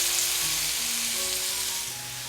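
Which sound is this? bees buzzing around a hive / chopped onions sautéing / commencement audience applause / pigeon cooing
chopped onions sautéing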